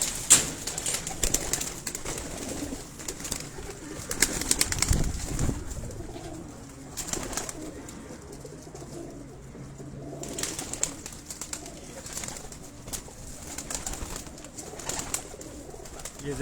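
Pigeons kept by a breeder in Rawalpindi coo softly and repeatedly at close range, with chirps from other birds and a faint murmur of voices in the background.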